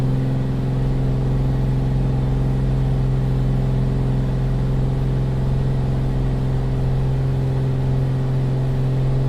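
A Black Square Bonanza 36TC piston engine held under throttle in flight simulation drones as a loud, steady low-pitched hum with strong tonal harmonics, unbroken and unchanging throughout with no talk over it.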